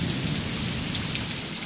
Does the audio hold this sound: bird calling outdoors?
no